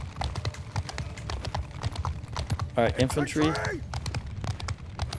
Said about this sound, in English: There comes the horse.